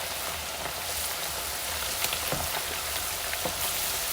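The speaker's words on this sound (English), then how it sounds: "I got my heat going. Got my oil. Let's get these wings in here." Unbreaded, seasoned chicken wings frying in hot oil, a steady dense hiss with scattered small pops and crackles, close and continuous throughout.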